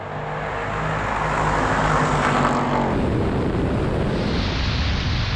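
Long-chassis Defender, Wrangler, G-Class and X7 accelerating side by side in a drag race, one with a supercharger, a loud continuous engine roar that swells as they pull away and holds into a sustained drone.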